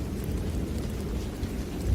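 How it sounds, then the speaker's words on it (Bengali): Thunder and steady rain as a sound effect for a Bengali village horror story on a stormy night, with gusty wind and drizzle; a continuous low rumble under dense rain hiss runs throughout, fairly loud and without talk. "চারিপাশে বিদ্যুৎ চমকাচ্ছে, সঙ্গে ঝোড়ো হাওয়া আর টিপটিপ বৃষ্টি।"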